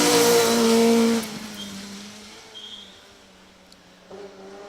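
A two-wheel-drive Vauxhall Nova rally car on a Cambrian Rally stage, engine note loud at first and then fading into the distance with brief revving bursts, no voices.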